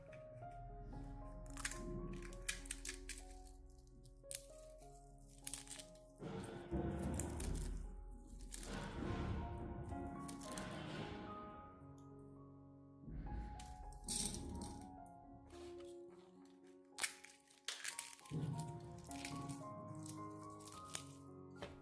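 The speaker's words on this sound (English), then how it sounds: "Crushing them into small pieces helps the minerals in the eggshells dissolve more easily" Dried, washed eggshells crushed into small pieces give off irregular crackling and crunching bursts with rattling fragments, loud and close, in several long busy stretches separated by brief pauses.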